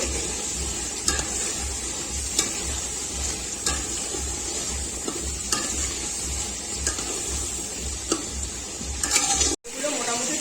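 Potatoes fry in a pot of oil for mutton biryani, a steady dense sizzle that runs throughout, with occasional clinks and scrapes from stirring and a brief cutoff near the end.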